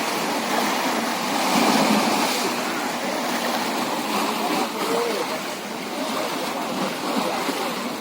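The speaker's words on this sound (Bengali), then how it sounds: "এই যে গঙ্গার ঘাটে এসেছি, জোয়ারের ঢেউটা দেখুন বন্ধুরা" Tidal waves at a Ganges river ghat wash in with a continuous, close rushing and splashing of water, loud and steady over eight seconds, with a faint voice mixed in.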